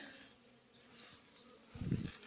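Honey bees buzz on a winter cleansing flight outside their hives, a faint hum with one bee passing close and loud near the end.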